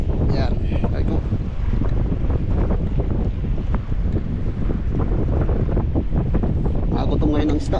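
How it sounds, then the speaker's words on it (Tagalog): Strong wind buffets the microphone on a small boat during night fishing, a constant loud roar with splashing water and faint knocks throughout. "Mahangin mga kasama, kaya malapit ang taglamig."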